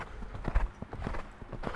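Horse hooves clip-clop at a steady walking pace, soft and fairly close, during a groundwork session with the horse.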